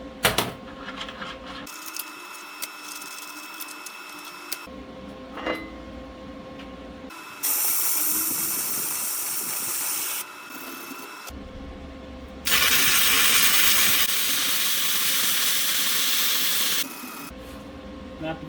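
Tack welding a grinder mount onto an old trailer axle, with bursts of harsh, crackling arc hiss lasting a few seconds each, separated by quieter shop noise and clatter.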